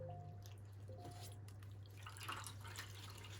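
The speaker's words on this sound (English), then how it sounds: "I'm just dipping the fabric into the coffee bath here." Fabric lifted from a coffee dye bath drips back into the liquid, giving soft, sparse drips over a low steady background hum.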